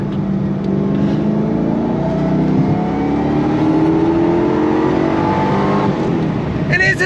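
The engine of a 2005 Ford GT manual supercar accelerates hard with a loud, close, sustained roar. Its rising engine tones climb steadily through the gear.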